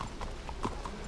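Horse hooves clip-clop in a video game, a few soft, evenly spaced hoofbeats at moderate distance over a quiet ambient background.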